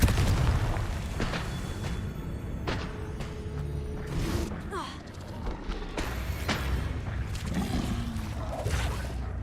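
Confringo spell blasts in the video game Hogwarts Legacy land as several loud booming bursts spaced a few seconds apart over continuous rumbling game noise.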